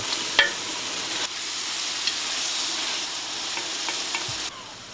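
Crabs frying in a pot as the base for a fish soup, with a steady loud sizzle, a few sharp clacks and scraping stirs near the start and around the middle, then the sizzle dropping back near the end.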